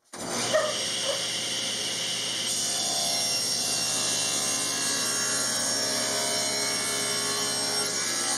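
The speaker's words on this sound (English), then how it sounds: "So I'll start cutting some leftover pieces of wood." Leftover wood pieces for a battery box are cut with a steady, continuous tool noise that starts abruptly and runs evenly throughout, with no voices.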